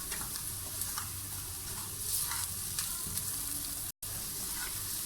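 Spices with red chilli, turmeric, salt and green chillies frying in a pan for aloo samosa filling, a continuous soft sizzle and crackle at low level with a brief cutout near the end.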